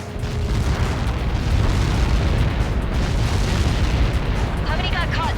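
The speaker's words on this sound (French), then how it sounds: "How many got caught in that explosion?" A huge in-game explosion in Ace Combat 7 roars as a sustained, loud rumbling boom, a dense low-end blast that fills the whole stretch, with a brief voice surfacing near the end.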